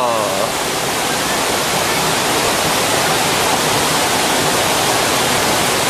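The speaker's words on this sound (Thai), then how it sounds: "น้ำตกทีลาซูครับ" Thi Lo Su waterfall in Thailand roars steadily, a dense, loud rush of falling water that never lets up.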